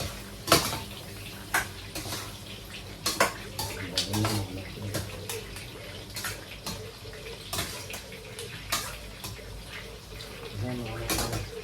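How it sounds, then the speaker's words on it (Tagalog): A little water is poured during Sunday lunch preparation, heard as soft splashing among intermittent clinks of dishes and cutlery, fairly quiet, with a voice speaking at times. "Bigyan natin ang konting tubig mga natin."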